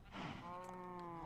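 Cows in a Minecraft cow crusher farm give a single drawn-out moo, clear and steady, with no other sounds.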